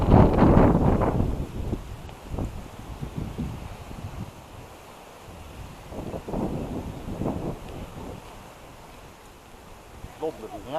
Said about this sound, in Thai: ลมแบบนี้ประมาณนี้